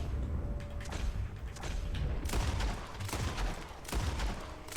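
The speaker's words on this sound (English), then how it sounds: "So, we're just gonna shoot everybody." Red Dead Redemption 2 gunfire rings out as a string of scattered shots and thumps, rather faint and mixed with game background noise, with no talking.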